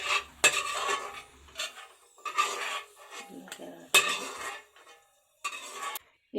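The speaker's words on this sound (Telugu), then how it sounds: "జీడిపప్పు వేగిందన్న గిన్నెలో తీసేసుకుందాం" Fried cashews are scraped out of a ghee-coated pan into a bowl with a metal spoon, giving several bursts of close, rasping scrapes and light clinks separated by short pauses.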